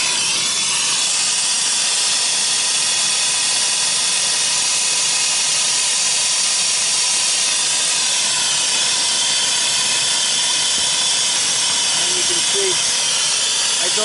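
A brazing torch heats a metal joint, producing a steady, loud, unbroken roaring hiss that holds throughout with no other sounds.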